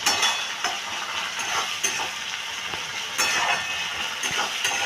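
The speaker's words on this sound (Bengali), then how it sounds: "রসুন বাটা 1 চামচ, আদা বাটা 1 চামচ দিয়ে আবারও এটা ভালো করে কষিয়ে নিচ্ছি।" Garlic and ginger paste fries for egg biryani with a steady bright sizzle that runs throughout, broken by repeated scraping stirs of a spoon in the pan.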